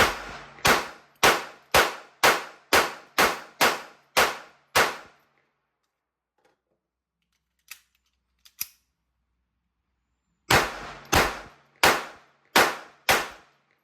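Ruger LCP II pistol firing Federal Premium Hammer Down .22LR, a steady run of about ten sharp, loud cracks, then a lull with faint handling clicks, then another quick string of shots close by.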